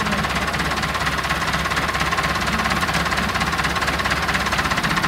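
A Massey Ferguson 290 4x4 tractor engine runs steadily close by, a dense knocking diesel clatter with constant vibration and no talking over it.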